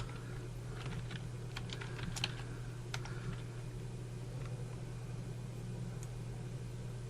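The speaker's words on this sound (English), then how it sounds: "Then type in the text that you want." Typing on a computer keyboard, with quiet, scattered key clicks in short bursts over a steady low hum from a fan, and no speech.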